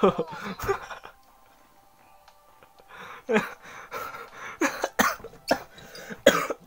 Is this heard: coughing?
yes